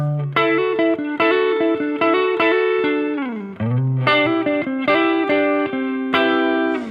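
An overdriven electric guitar plays quick major triad chord embellishments with hammer-ons and a bending slide, rhythmic and loud with no talking.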